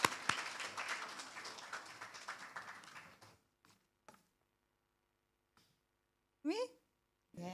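A conference audience at an Atomy New Zealand seminar claps in a dense, warm round that fades out after about three seconds, followed by quiet with a few faint taps and a brief voice.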